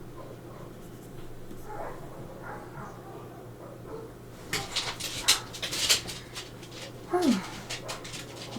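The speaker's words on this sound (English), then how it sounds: "dogs next door seem to be getting into a fight with each other" Neighbouring dogs scuffle in the distance with bursts of yelps, growls and a rising whine over scratchy pen-on-paper writing noise, with a brief spoken word near the start.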